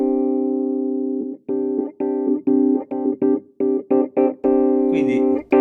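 A clean Twin amp model tone from an amp simulator, with no bright setting: a held note rings out, then a run of short, rhythmic chord stabs, loud and close, with a brighter flourish at the end.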